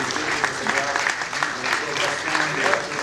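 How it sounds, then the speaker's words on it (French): An audience in a hall in the DRC applauds the professors at a book launch for the Minister of Industry, a dense, steady wash of many hands clapping at close range, with voices mixed in. "qu'ils soient applaudis par l'assistance"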